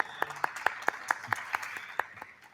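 A few people at an agricultural innovation and training forum clap, giving about nine distinct hand claps at an uneven pace, fairly faint over a quiet room.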